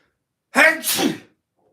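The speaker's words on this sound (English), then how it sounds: "I think that's all the sneezes." A single sharp sneeze bursts out close and loud after silence, a quick two-part explosive breath that fades within a second.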